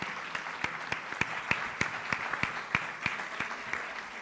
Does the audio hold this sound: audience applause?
yes